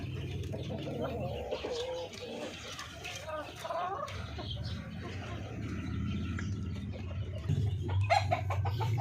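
Four darag native chickens from Tarlac cluck softly and intermittently while feeding on fruit and vegetables, the calls sitting under someone talking nearby.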